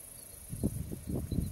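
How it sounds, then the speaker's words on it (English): Four quick mechanical camera shutter clicks in a short burst, close and fairly soft, over a steady high-pitched background whine. "I've got so many clicks on this camera, you can hear it"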